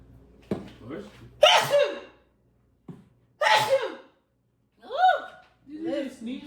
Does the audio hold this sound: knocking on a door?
no